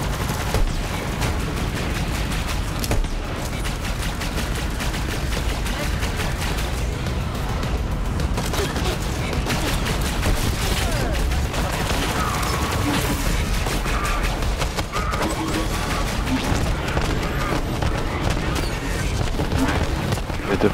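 Sustained video game gunfire in Borderlands 3, dense rapid shots and booms running continuously and loud, with a voice talking over it.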